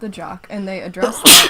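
A single loud, sharp sneeze bursts out near the end, right after conversational speech about film characters, standing out above the voices.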